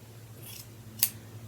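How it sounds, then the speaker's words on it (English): Scissors snip through sewn fabric close to a seam on a handwoven Saori-style vest, a single crisp cut with a faint rustle before it, alone over a low hum. "So I'm going to come along one at a time and trim a little closer to the seam so there's not a lot of bulk there under my arm."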